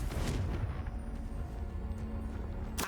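The Confringo blasting spell fires in the Hogwarts Legacy video game, giving a deep rumbling boom with a sustained low roar and a sharp crack at the very end, no talk.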